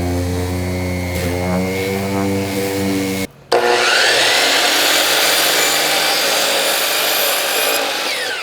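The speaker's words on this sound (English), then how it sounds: "So I'm gonna go ahead and sand this" A power sander grinds steadily across a plywood board, loud and close, with a brief cutoff midway before the whirring, rasping surface noise resumes and continues without pause.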